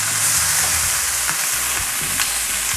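Pot roast meat browns in a pan on a stove at full high heat, giving a loud, steady sizzle and crackle throughout with faint stirring knocks and no talking.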